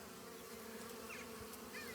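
A dense, steady drone of many honey bees buzzing close by at an apiary, continuous and unbroken throughout.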